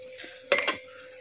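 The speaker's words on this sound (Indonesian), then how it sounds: "Selanjutnya kita akan tutup dengan menggunakan tutup panci sampai benar-benar matang" A metal lid set onto a cooking pot of sweet-and-sour blood clams gives two quick clanks up close over a steady low kitchen hum.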